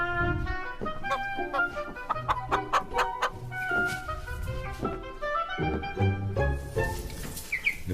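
A hen clucks repeatedly up close, a busy run of throaty, pulsing calls and sharper squawks in uneven rhythm.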